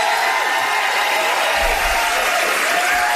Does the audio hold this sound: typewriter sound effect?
no